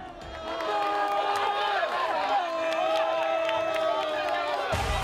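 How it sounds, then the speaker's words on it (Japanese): Football supporters in a stadium after a J.League YBC Levain Cup match between Hachinohe and Kashima keep up a loud sustained crowd roar of massed voices with sharp tonal whistles or calls, cut off abruptly near the end. "試合内容に納得できなかったサポーターはブーイングで叱咤激励"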